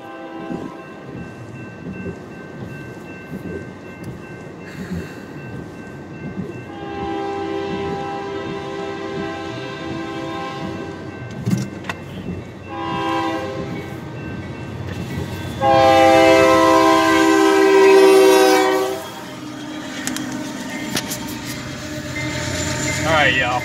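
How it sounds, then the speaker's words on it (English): A train rumbles past steadily, its horn blaring several times with long sustained blasts, the loudest near the end, with some voice beneath. "I got stuck by a train."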